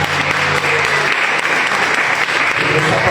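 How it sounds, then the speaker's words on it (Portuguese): Dense, steady applause from a church congregation at an evening youth worship service, filling the room evenly and continuing without a break from start to finish. "Uma salva da palmas."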